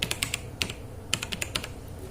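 Someone types briefly on a computer keyboard, a quick scatter of crisp, close key clicks in small bursts with short pauses, no voices.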